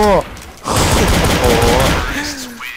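Rapid automatic gunfire from Counter-Strike: Source, a loud sustained burst of shots after a brief pause, with overlapping bursts and some voice sounds near the start and end.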